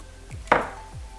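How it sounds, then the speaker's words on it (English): A knife cuts into a baked sweet potato pie and strikes the pan once with a short, sharp clack, close by, with faint low bumps around it. "I'll cut this pie to set the slice of it to see how it cut once it get done and cool down"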